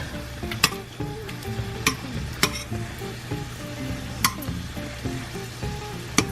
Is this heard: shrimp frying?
yes